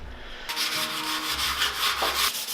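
Steady abrasive sanding on a car body kit being roughed up before filler, a close continuous scratchy rasp that starts after a brief quiet moment and stops just before the end.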